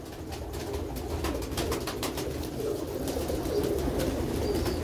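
Sialkoti pigeons kept for sale coo softly and repeatedly close by, their low, throaty calls layered over a steady background murmur, with scattered wing rustles and faint clicks.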